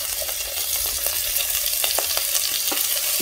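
Small chicken pieces fry in a pan with a loud, steady sizzle and crackle. Occasional sharper pops break through, heard close with no voices.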